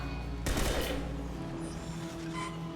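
Gunfire in the video game Mass Effect 2, a loud rapid burst of automatic shots over a dense battle background of rumble and hum.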